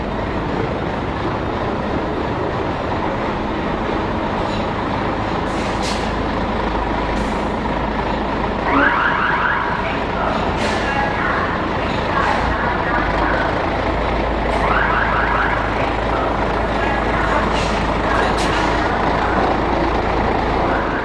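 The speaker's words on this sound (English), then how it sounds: "Excitement mounts at the imminent arrival of the battle bus on a low loader." A low loader truck arrives carrying a 100-year-old B-Type battle bus, with a steady engine rumble throughout, air brake hisses and reversing beeps in the middle, and occasional clanks nearby.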